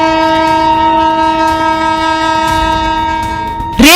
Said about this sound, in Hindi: शक्तिपुंज एक्सप्रेस पूरी रफ्तार से दौड़ी चली आ रही है, बार बार हॉर्न बजा रही है